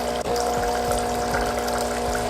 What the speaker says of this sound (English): So it's sending all that solution again through all the water lines and breaking up some of the calcium and mineral buildup